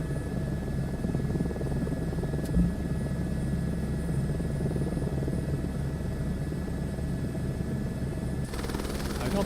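A helicopter flies in Microsoft Flight Simulator 2024, its steady rotor and turbine drone a continuous, even hum with a faint high whine throughout, plus a brief click partway and slight added hiss near the end.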